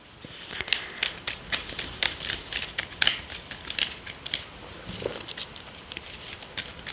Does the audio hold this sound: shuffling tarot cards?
yes